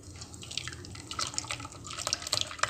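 Ground pistachio milk being filtered, with irregular drips and small trickling splashes of liquid falling close up in quick, uneven bursts.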